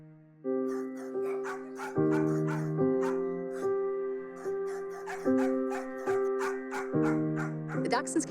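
Several dogs at a rescue shelter, including dachshunds and a little Chihuahua mix, bark, yip and whimper in rapid, repeated bursts, fairly close, with a pitched whining tone running between the barks.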